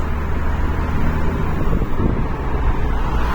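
A Dacia Lodgy fitted with a smart clutch driving on the road while shifting through second and third gear: a continuous low engine and road rumble with wind noise, close and steady, with no distinct shift clunks.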